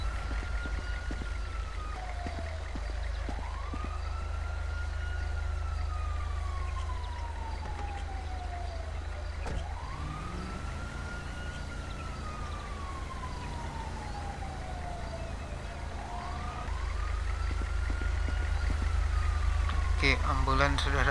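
An ambulance siren in the video game GTA V wails in long rising and falling sweeps, repeating several cycles over a constant low engine rumble.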